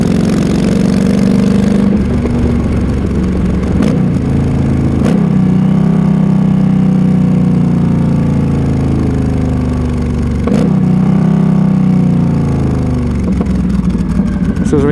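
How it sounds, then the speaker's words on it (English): A Yamaha XVS 1300 motorcycle engine runs steadily and loudly close by under heavy engine braking, its low drone shifting in pitch as revs fall and rise, with a few sharp pops breaking through. "heavy engine braking, and there wasn't a lot of popping"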